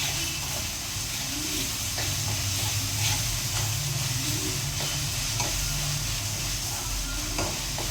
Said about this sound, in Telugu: ఇందులో అయితే అల్లం వెల్లుల్లి పేస్ట్ వేస్తున్నా.